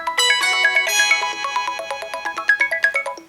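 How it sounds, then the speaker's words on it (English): A ringtone melody named Dion plays from a gold 22K Huawei Watch, a bright chiming tune of rapid repeating notes with steady rhythm, clear and close with no talking. "we will be playing Dion, which is my selected ringtone"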